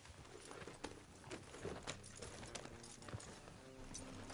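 Hooves of a horse galloping in Red Dead Redemption 2, a faint, rapid clip-clop rhythm of hoofbeats under a low background bed of game ambience.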